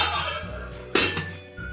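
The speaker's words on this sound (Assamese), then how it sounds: "এতিয়া অকণমান সময়ৰ কাৰণে আমি ঢাকনিখন লগাই দিম।" A lid goes onto a pan of frying jackfruit curry with one sharp metallic clink, followed by a smaller clatter as it settles, close by and otherwise quiet.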